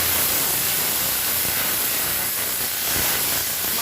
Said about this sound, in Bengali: মাছগুলোকে হালকা করে ভাজবো বেশি কড়া করে ভাজবো না